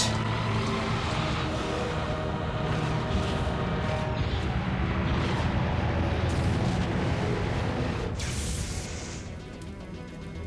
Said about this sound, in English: That's quite a lot of rockets right there